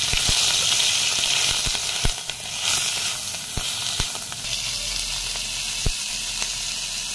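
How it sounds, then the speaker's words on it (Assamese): Chicken meat sizzles steadily in hot oil in a pan, a loud continuous hiss with occasional sharp pops and spatters. "আৰু ইয়াতে মই মাংসখিনি অকণমান ভাজি ল'ম"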